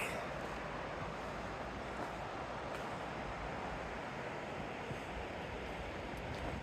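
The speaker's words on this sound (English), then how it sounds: "There's the creek." Steady rushing water of a creek along a Mono Lake hiking trail in the California Sierra flows continuously, a broad even wash of sound close by with no voices.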